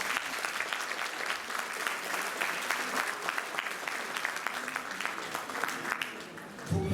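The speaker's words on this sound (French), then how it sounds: "on l'applaudit bien fort pour l'encourager" A live audience gives loud, sustained applause to a guitar-playing singer from Saint-Julien-sur-Cher. Dense crowd clapping fills the whole stretch and eases slightly near the end.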